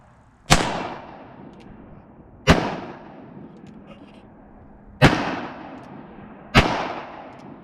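Four loud, sharp gunshots from a .45 Colt Uberti 1873 Cattleman single-action revolver, spaced a couple of seconds apart, each with a ringing decay and no talk.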